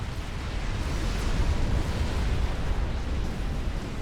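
Scathis artillery shells raining down and exploding on a main base in a real-time strategy game, a thick unbroken rumble of overlapping blasts sustained at a steady loudness.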